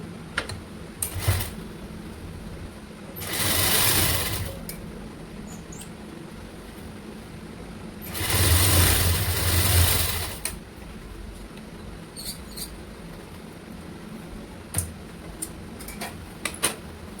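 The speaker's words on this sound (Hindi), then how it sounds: "अब बीच पे सिलाई मार के इसकी फिटिंग नापेंगे।" A sewing machine stitching a red lined round-neck blouse, running in two sustained whirring bursts with quiet handling clicks between them, close and without speech.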